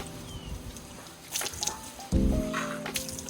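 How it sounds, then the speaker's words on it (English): Water dripping and squishing from a window frame while glass is scrubbed during exterior window cleaning with a water-fed pole, soft wet trickles and a brief louder wet splash, close and fairly quiet, with no speech. "the water is dripping down from the frame while I'm cleaning the rest of the glass"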